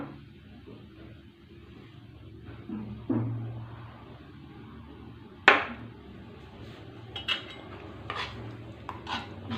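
A spoon stirs curd into strained juice in a bowl, giving soft scraping under low background hum, broken by a few clinks of utensil against the bowl, close and fairly quiet, with no talking.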